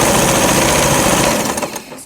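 Sewing machine stitching fabric for a hair bow, a close, loud, rapid steady mechanical hammering that slows and stops near the end.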